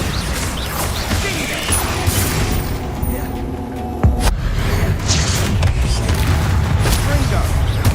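Bombarda spell explosions in the video game Hogwarts Legacy, dense rumbling booms and crashing impacts layered in loud continuous battle noise, with a sharp blast around the middle and a voice shouting over it.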